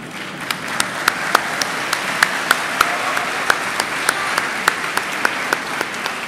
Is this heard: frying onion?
no